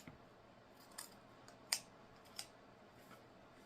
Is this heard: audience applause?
no